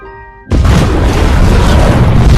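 A sudden, massive explosion in a Ukrainian film bursts in and keeps roaring as a loud, sustained rumbling blast.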